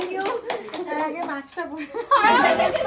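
Guests at a Christmas celebration, children among them, break into a burst of hand clapping near the end, close and lively, under overlapping voices.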